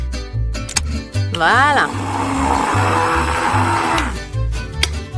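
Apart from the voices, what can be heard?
grinding coffee beans into powder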